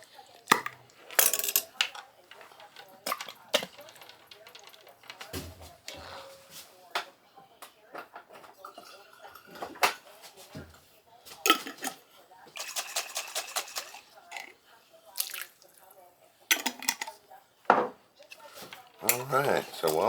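Hominy and chicken being stirred in a pot, with repeated clinks and scrapes of a utensil against the pot in irregular bursts, close up, with a person talking in between.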